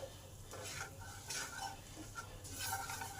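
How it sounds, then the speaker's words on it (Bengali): Coriander powder and garam masala sauté in hot oil in a pan for a pointed gourd dish, giving a faint, steady sizzle with soft scraping strokes of a stirring spoon, and no voices. "এটাকে একটু কষে নেব তেলের মধ্যে"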